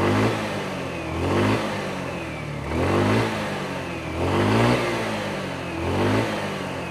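A Keeway Versilia Max motorcycle engine revs repeatedly toward its roughly 8,000 rpm limiter, rising and falling in a steady cycle of loud surges, close by with no talking.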